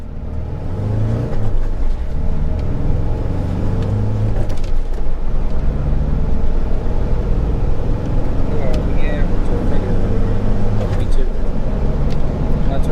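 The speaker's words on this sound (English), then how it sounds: "it's time to test the 0 to 100 km per hour of this car" A Force Gurkha SUV accelerates hard from a standstill toward 100 km/h, a steady engine drone and road rumble running throughout the run, with people talking inside the cabin over the noise.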